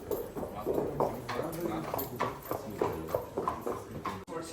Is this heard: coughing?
no